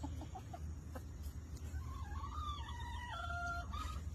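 Backyard chickens cluck softly while pecking at watermelon, giving a few short calls and then a longer warbling run of clucks. The birds sound close but quiet over a low background hum.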